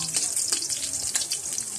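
Ginger and onion sautéing in a pan for a Filipino tomato fish dish, a steady close sizzle with faint scraping and clatter from stirring, no talking over it.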